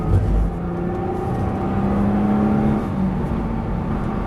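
A Nissan GT-R accelerates on the Issoire race track, its engine a loud, steady in-car drone with a rising tone as it pulls, heard without talk.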